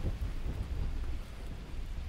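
Thunder rolls beneath steady rain in the Paranormal Observation ghost-hunting video game, a dense low rumble with a constant wash of falling rain, fairly loud and heard without talk.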